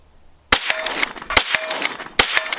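Gunshots from a Kriss Vector Gen 2 9mm carbine, a rapid string of about eight sharp, loud cracks fired in uneven bursts, with no talking.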